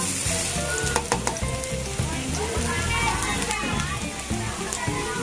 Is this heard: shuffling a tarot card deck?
no